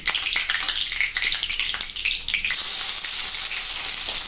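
Chopped onions dropped into hot oil with small cardamom pods and cinnamon pieces: a loud, close sizzle and crackle that bursts up and then settles into a steady hiss of frying, with no talking.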